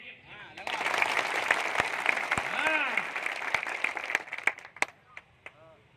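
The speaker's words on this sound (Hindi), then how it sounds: "बुंदेलखंड की ताली चाहिए मुझे।" Crowd at a political rally in Bundelkhand, Madhya Pradesh, clapping in a sustained burst under a speaker's amplified voice, with scattered cheers and whistles, thinning toward the end.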